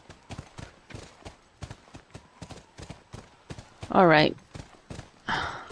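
Horse hooves clip-clop in the video game The Last of Us, a steady close rhythm of hoofbeats at a brisk walk, with a voice speaking briefly over them twice.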